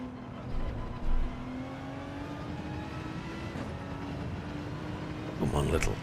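Race car engine in a racing video game holds a steady droning whine that slowly rises in pitch, with a brief louder burst near the start and another swell at the end, running under someone talking.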